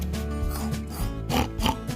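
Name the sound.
person imitating a pig oinking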